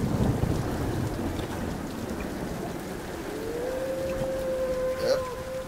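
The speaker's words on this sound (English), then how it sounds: "That is a lot of storm." Thunderstorm in the video game Tomb Raider: steady heavy rain roars throughout, with a low rumble swelling near the start and a brief loud crack toward the end, no speech.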